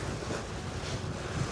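Wind and open-ocean waves wash steadily around a sailboat far offshore in the Atlantic, on a crossing to Fernando de Noronha; a constant broadband roar with no voices.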